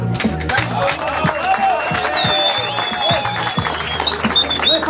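A weak round of applause from a hip hop battle crowd at a Miami competition, scattered claps with whistles and a few shouts mixed in, moderately loud and fairly near.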